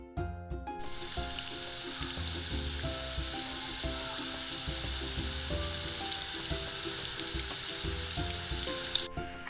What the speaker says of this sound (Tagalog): Sa mainit na mantika, ating ipiprito ang chicken fingers sa loob ng 2 minuto o hanggang ito ay maging golden brown.